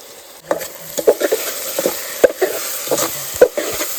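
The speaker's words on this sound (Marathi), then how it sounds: "एक आता या फोडणीमध्ये ॲड करूया." Spice paste sizzles and crackles in hot oil tempering while a utensil stirs and scrapes the pan in irregular strokes, close by.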